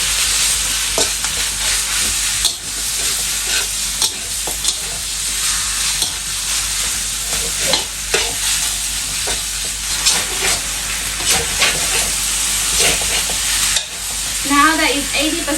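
Pork stir-frying in a hot pan for Thai pad see ew with garlic, a loud steady sizzle and hiss with frequent scraping stirs throughout, no talking.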